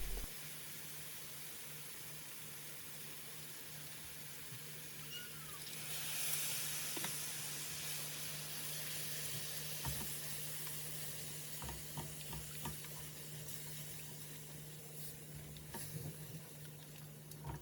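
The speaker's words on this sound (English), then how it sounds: "Stir through and allow to simmer for a couple of minutes." Pasanda sauce with raisins, coconut block and base gravy simmering in a pan, a steady faint hiss and gentle sizzle with scattered soft stirring knocks throughout, no talk.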